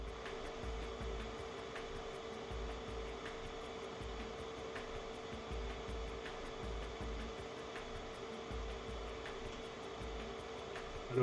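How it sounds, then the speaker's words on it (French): A steady mechanical whir of a cooling fan runs throughout, with a constant hum and faint rhythmic ticking, no voices. "C'est pour vous donner une idée du bruit émis par le ventilateur"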